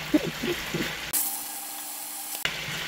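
Chicken frying in a pan: a steady, bright sizzle with brief stirring and clatter at the start, then a cleaner crackling hiss broken by a couple of abrupt cuts.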